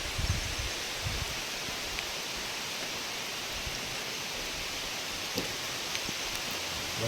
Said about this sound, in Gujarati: વરસાદ આવ્યો છે જોરદાર.